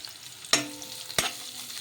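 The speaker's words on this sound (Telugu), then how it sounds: "ఇలా ఆనియన్స్ వేసుకొని ఒకసారి కలిపేసుకుందాము" Chopped onions dropped into hot oil with cumin and mustard seeds, sizzling loudly and being stirred, with two sharp scraping strokes of a spatula over a continuous hiss, close and clear.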